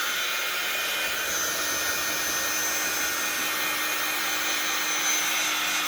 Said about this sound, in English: So I don't want to get the heat gun too close.